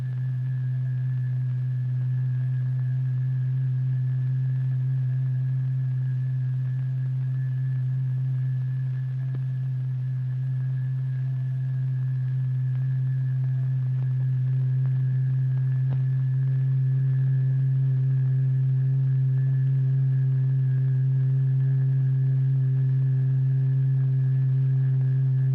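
A steady, loud low tone drives a cymatics display, a constant sustained hum with a faint higher overtone ringing above it, unbroken and unchanging throughout.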